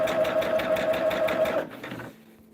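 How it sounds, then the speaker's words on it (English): A sewing machine stitches a seam on a quilted table topper made from Roman stripe blocks, its needle running in a steady fast rhythm close up, then stopping and leaving a quiet hum. "And we're just sewing down that line."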